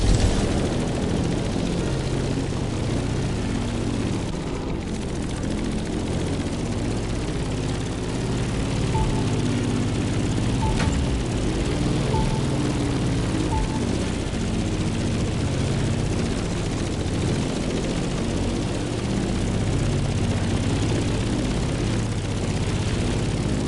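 Aircraft engine drone with a propeller-like throb from a sturdy, maneuverable plane in The Crew Motorfest, held steady and fairly loud throughout, with a broad rumbling low end and no talk.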